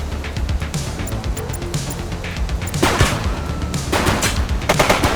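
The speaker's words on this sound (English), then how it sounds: "He's shooting!" A suspect shooting in The Precinct police game: rapid bursts of loud gunfire, several volleys in quick succession with crashing impacts, close and dominant.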